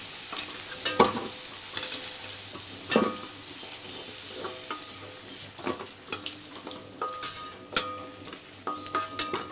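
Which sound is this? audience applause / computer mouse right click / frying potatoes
frying potatoes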